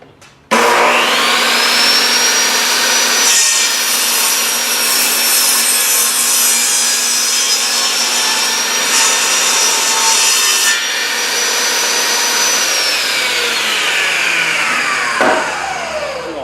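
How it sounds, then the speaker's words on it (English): A table saw rips through 2x6 lumber in one long continuous cut, its steady loud whine held for about fifteen seconds before spinning down, with a gritty rasp of blade on wood throughout. "use my miter gauge and my table saw here to clean them up"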